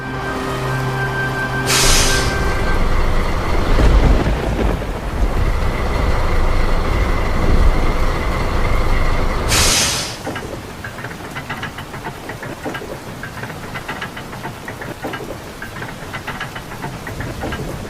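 A train rumbling along the rails with rhythmic clatter, loud and close, then easing into a quieter, steady rattle partway through.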